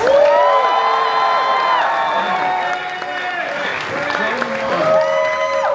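Crowd applause and cheering at a Halloween Horror Nights convention panel, clapping and whoops blended under loud overlapping voices and tonal chatter.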